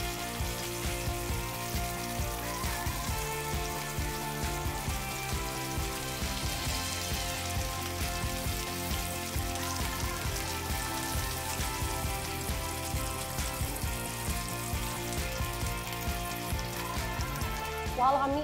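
Meatballs frying in olive oil in a frying pan give a steady, crackling sizzle that continues unbroken, close and moderately loud, with no talk over it.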